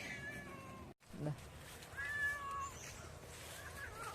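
A cat on a coffee plantation meows several times, short drawn-out cries that are fairly close and clear, with a brief silent gap early and soft background noise.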